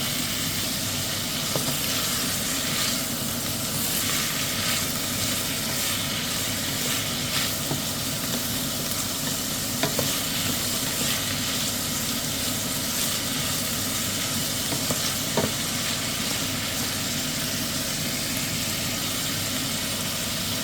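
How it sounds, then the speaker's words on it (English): Carrots and other chunky soup vegetables sizzle in a pan while being stirred, a steady, dense hiss that continues unbroken, with a few faint clinks and no talking. "I'm going to continuously stir this for about 3-4 minutes, just until them carrots start to soften slightly"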